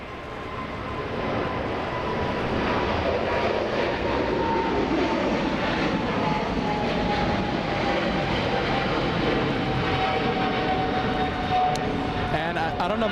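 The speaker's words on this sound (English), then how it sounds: "we have the 777 Japan Airlines heading to Tokyo Haneda, lifting off on 25 right" A Japan Airlines Boeing 777 takes off from runway 25 right at LAX, its engines building into a broad, sustained roar at a distance with a rising whine, while people talk quietly underneath.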